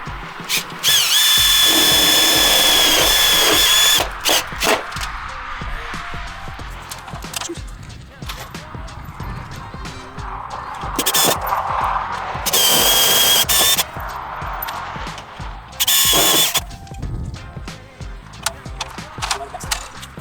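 A power drill drives screws into the rib of a Lind banner frame during installation, with loud, sustained whirring bursts at about 1–4, 12.5–13.5 and 16–16.5 seconds, separated by quieter handling noise.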